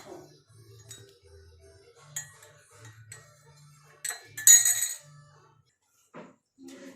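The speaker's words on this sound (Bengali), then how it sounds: "আমি 1 চামচ করে সবটিতে মধু দিয়ে দিচ্ছি।" A metal spoon clinks and taps against cups while honey is added to masala tea in five cups, with scattered sharp chimes and scrapes, close by in a quiet kitchen, and no voices.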